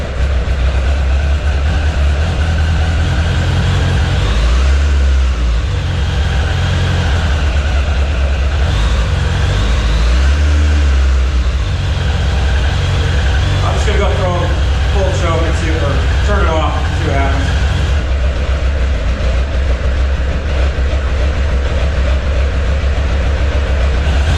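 A Suzuki Bandit 600 motorcycle engine runs with the choke on, a loud, steady rumbling idle close by that continues throughout while someone talks over it intermittently.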